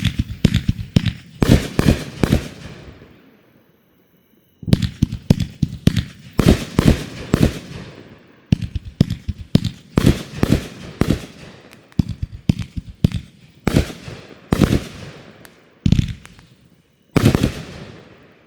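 Backyard firing of a Coliseum fireworks cake by No Name Fireworks: rapid volleys of loud, sharp bangs and crackling bursts, fired in several clusters separated by short pauses, close and booming with lingering crackle between shots.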